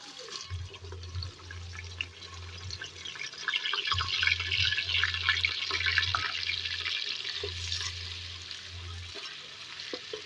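Two medium onions go into a cup of hot ghee for arvi gosht and fry with a steady, bright sizzling hiss. A low hum comes and goes underneath, with no talk.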